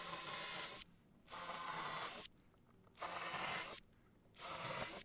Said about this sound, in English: I'm going to go ahead and drill out the center of each of those.